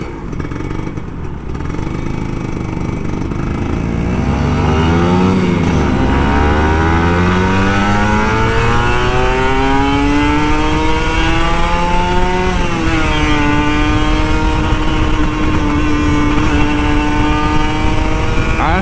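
Kawasaki Ninja RR 150 two-stroke motorcycle engine, an older model with an open exhaust, revving hard for nearly twenty seconds, loud and close, with a buzzy, raspy pitch that climbs and falls over repeated throttle blips.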